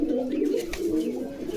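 Pigeons coo steadily at a Bogura pigeon market, a continuous, fairly close, low throaty rumble of several birds with no pauses.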